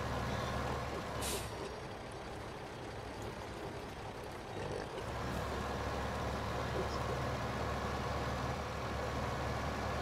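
Truck driving in Farming Simulator, a steady low engine drone with a brief hiss of air release near the start, continuous and fairly quiet.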